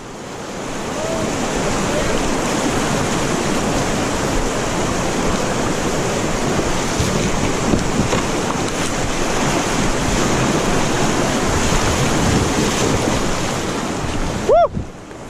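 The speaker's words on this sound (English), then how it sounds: "This water's raging, boys." Raging rapids on the Chattahoochee River roar as a loud, steady rush of churning water, mixed with wind buffeting the microphone, broken by a brief sharp sound at the end.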